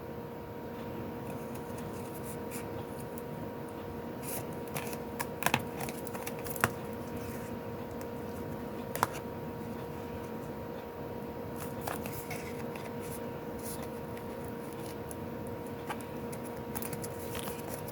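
Scissors snip paper for a junk journal embellishment, a few sharp close cuts standing out over a faint steady background hum, no talk.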